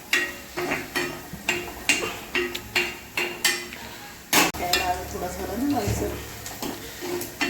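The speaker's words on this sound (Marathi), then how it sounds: "कांदा परतून घ्यायचा छान असा. तो लाल होईपर्यंत परतवायचा आहे." Chopped onion sautéing in a pan for a prawn fry, with a sizzling hiss and rhythmic scraping strokes of a spatula against the pan at about one per second, close, while someone talks over it.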